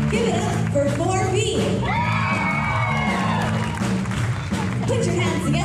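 Clapping and shrill cheering from a crowd at an elementary school performance as a class of dancers finishes, children yelling and whooping over continuous applause.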